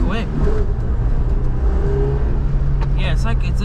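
Suzuki Jimny JB33 engine revving from inside the cabin as the clutch is popped in first gear, a loud steady engine drone with rising pitch, with someone talking over it.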